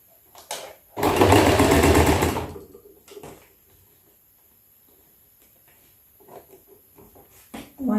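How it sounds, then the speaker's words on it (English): A domestic sewing machine stitches a shirt collar in one loud, fast burst of about a second and a half. It is surrounded by quieter handling clicks and rustles of fabric. "we're going to go to our sewing machine and we're going to sew like this."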